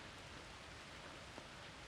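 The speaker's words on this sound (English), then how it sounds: "Quite strong rain actually." Rain falls steadily onto a tarp shelter as an even, faint wash of patter with no distinct drops standing out.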